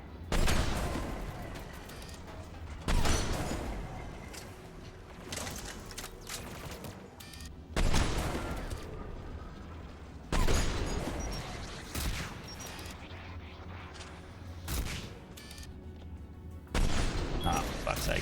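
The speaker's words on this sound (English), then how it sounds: "There, the anti-aircraft guns." Anti-aircraft guns in Mass Effect 3 fire in loud, heavy bursts that recur every few seconds over a constant rumbling battle din.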